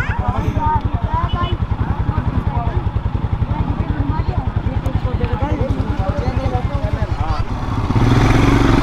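A motorcycle's engine runs steadily near a fort entrance with a crowd gathered, a fast rhythmic thumping pulse that stays loud throughout, rising slightly at the end.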